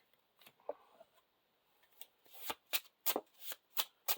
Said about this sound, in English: Shuffle this Hasty Stroke back into our deck